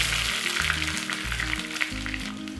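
Chopped onion frying with mustard seeds in hot coconut oil for a Kerala tender jackfruit sambar tempering, giving a steady close crackling sizzle over soft background music, with no talking.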